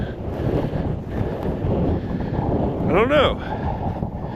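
Strong wind buffets the microphone outdoors at Black Mesa in the Oklahoma Panhandle, a loud continuous rushing roar, with someone speaking briefly over it.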